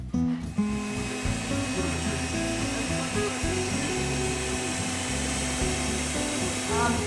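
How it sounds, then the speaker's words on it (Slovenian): An electric mixer whirs continuously at close range, whipping egg whites to stiff peaks for rum coconut sponge balls, with a steady motor drone and slight shifts in pitch. "Beljake smo stepali v sneg"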